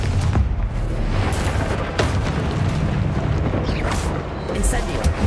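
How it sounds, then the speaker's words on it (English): Confringo fire spell in Hogwarts Legacy: loud, dense blasts and booms over a constant roar of combat, with a voice calling out over the effects. "Confringo!"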